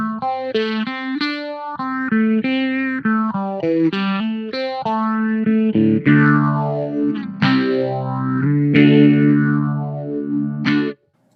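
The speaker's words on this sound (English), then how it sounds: "So again, here's the small stone by itself." Electric guitar goes through an Electro-Harmonix Small Stone phaser pedal, with picked notes and chords whose tone sweeps up and down in a slow swirling motion, steady and fairly loud, ending abruptly with no talking.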